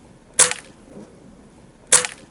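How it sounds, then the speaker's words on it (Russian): Two sharp shotgun blasts at an outdoor hunting shooting competition, spaced about a second and a half apart, each loud and close with a brief tail, with quiet between and no talk. "Это ружье хорошо стреляет."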